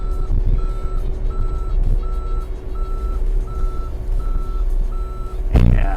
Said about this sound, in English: If I push on the back, it goes backwards. So right now, I'm gonna push on both of them.